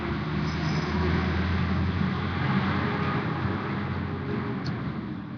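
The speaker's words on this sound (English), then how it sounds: "here comes the garbage truck" A garbage truck passes on a street as a steady, broad low engine and road rumble, moderately loud and fairly close, with no talking over it.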